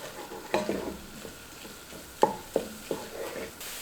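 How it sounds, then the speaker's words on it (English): Cumin, chili powder, smoked paprika and oregano cooking in a pan for vegan chili mac: a quiet background sizzle with a few distinct spoon clicks and scrapes as the spices are stirred. "I have cumin, chili powder, smoked paprika, and oregano. And again, we'll let this cook for just a minute or two."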